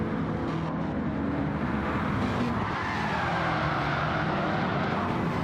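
Race cars roaring around Goodwood in Gran Turismo 7, a steady dense engine drone with tyre squeal as cars run nose to tail toward Woodcote corner, loud and continuous with no talking.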